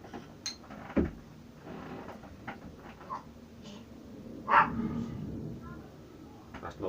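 A dog barks a few times at close range, short sharp yaps spread over several seconds amid faint background sounds.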